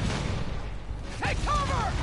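Rockets streak in with a whooshing rush during a Spider-Man PS4 fight, a brief swelling burst over a steady rumbling game backdrop, with a short voice-like call near the end.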